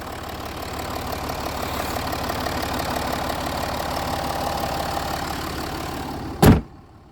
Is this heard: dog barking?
no